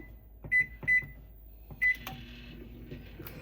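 Three short electronic keypad beeps, spaced evenly apart, as a microwave oven is set to cook corn, followed by a low hum and faint clatter as the oven starts running.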